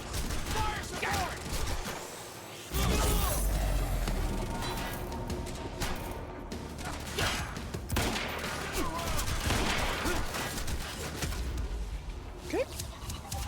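A carbine rifle in the video game Quantum Break fires in dense, rapid volleys alongside mechanical clatter, with a player's voice talking over the gunfire.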